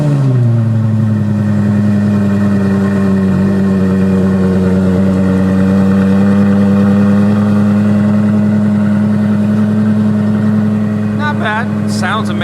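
A 4.7-liter V10 supercar engine runs close by with a deep, steady, loud rumble and rich harmonic drone that holds nearly constant throughout, with little audible revving.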